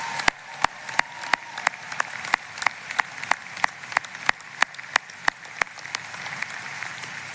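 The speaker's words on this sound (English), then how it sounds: "Let's give this group another round of applause." A commencement crowd at Mines applauds its student athletes, a busy background of clapping punctuated by sharp, loud, evenly spaced claps from one nearby person, about three each second.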